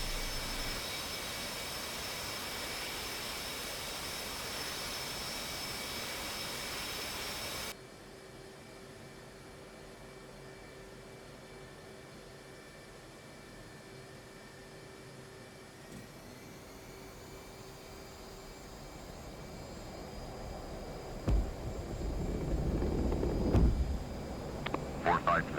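F/A-18 catapult launch off an aircraft carrier in the DCS flight simulator: a loud jet roar at full power that drops to a steady engine whine, then builds again into a heavy rushing surge with rumbling bursts at the end.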